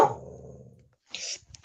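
A dog growls and barks close by, a loud rumbling burst fading over the first second, then a short sharp bark-like outburst after a pause.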